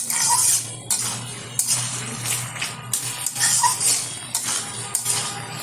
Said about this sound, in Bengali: আমি একটু খুন্তি দিয়ে ঘেটে দিচ্ছি